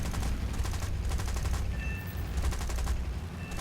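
Rapid bursts of 7.7mm machine gun fire from a Boomerang aircraft in a video game, several fast rattling volleys separated by short pauses, loud and close over a steady engine hum.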